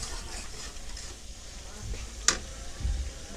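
Tomato sauce is stirred into food frying with chicken, giving a soft background sizzle with a sharp utensil clink against the pan and some low shuffling stirring near the end.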